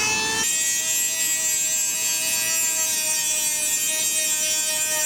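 Dremel rotary tool cutting a square hole for a tomahawk build, giving a steady high-pitched whine with sharp tonal lines that holds at an even, fairly close level throughout.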